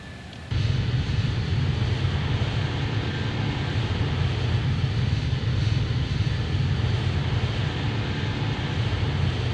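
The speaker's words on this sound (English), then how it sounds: "Engines are making a super strange noise today." Boeing 747-400 jet engines in a flight simulator game, a steady loud low roar with broadband rushing hiss that starts abruptly and holds evenly throughout, with no talking.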